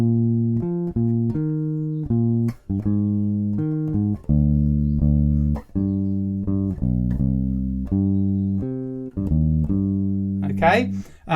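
Upright jazz bass walking a line, clear and close, steady plucked notes one after another with no voices over them.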